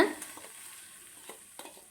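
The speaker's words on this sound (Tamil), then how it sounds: "இப்போது அடுப்பை ஆஃப் பண்ணிவிட்டு நம்ம மாங்காயெல்லாம் சேர்த்துக்கலாங்க" Soft, quiet frying as raw green mango pieces are stirred into hot oil with the stove off, faint stirring scrapes and a low sizzle, no voices.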